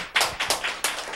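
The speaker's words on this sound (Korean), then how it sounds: "그러면 아무튼 소감 이야기 박수를 청해 듣도록 합니다" Several hands clap in quick, uneven bursts at a Korean gathering, close and fairly loud, with short gaps between the claps.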